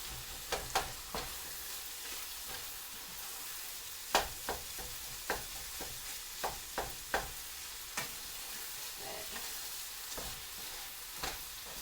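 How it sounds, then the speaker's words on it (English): Rice-based stuffed pepper filling sizzles steadily in a pan while a spoon scrapes and stirs it, giving scattered clacks over the constant frying hiss, close and alone without talk. "Make sure the rice is all getting cooked in there."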